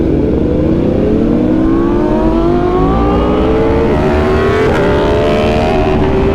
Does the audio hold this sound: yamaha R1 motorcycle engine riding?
yes